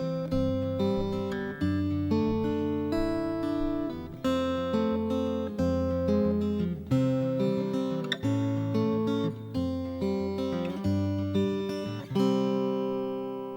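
Fingerpicked notes on a Taylor T5Z hollow-body electric guitar with a scooped-mid EQ, a steady flowing pattern of plucked notes at even loudness, close and clear with no talking.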